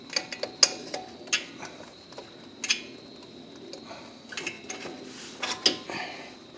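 A small tool pushes a brake caliper piston back into its bore on a 2012 Nissan Altima front brake, giving sparse close metallic clicks and ratcheting ticks with quiet gaps between.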